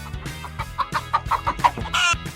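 A chicken clucks in a quick, close series of sharp clucks, ending in a louder, drawn-out squawk, with no talking over it. The scene comes from the comedy series Young Sheldon.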